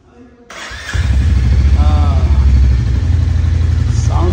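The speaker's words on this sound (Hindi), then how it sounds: "साउंड इसका थोड़ा सा रफली है, जैसे ऑफ रोड बाइक होता है।" A Royal Enfield Hunter 350 motorcycle with a short silencer, parked at a showroom in Palampur, fires up and settles into a loud, close, slightly rough and thumping idle that holds steady to the end.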